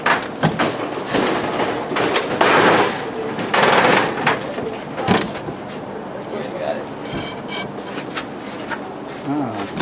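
A bee colony buzzing around its hive during a rescue in Elfin Forest, a dense steady hum close by, broken by rustling and knocks, with people talking at times.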